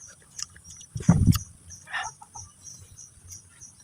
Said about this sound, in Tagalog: May manok sa likod.